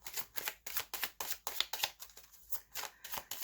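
Oracle cards being shuffled by hand in quick rhythmic bursts, about a dozen crisp riffling flutters in steady succession, close and fairly quiet with no talking.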